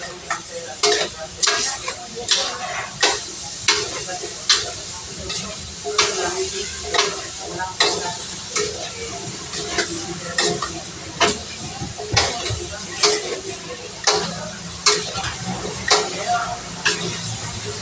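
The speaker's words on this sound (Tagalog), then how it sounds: "At syempre halo-haloin natin." Chicken feet being stirred with oyster sauce in a sizzling pan, steady frying hiss punctuated by regular scraping strokes of a utensil, close and fairly loud, with no talking.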